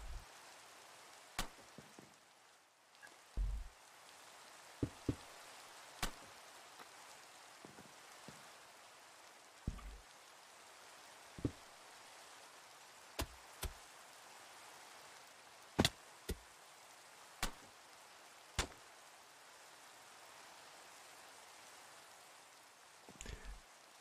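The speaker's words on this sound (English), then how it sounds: "Rains in the plains." Steady rain falls across open plains in a blocky sandbox building game, a soft continuous hiss broken by scattered sharp clicks and knocks from block placing, with no talk.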